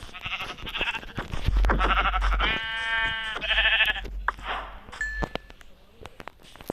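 Sheep bleat loudly and repeatedly nearby, long wavering cries overlapping one another, with some outdoor rustling and a brief tone near the end.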